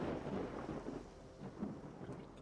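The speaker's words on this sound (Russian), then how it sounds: "этот гром уже, блядь, задолбал." Deep, rolling thunder in the video game S.T.A.L.K.E.R. Shadow of Chernobyl, a continuous low rumble swelling and fading over a couple of seconds with a faint patter of rain, heard alone.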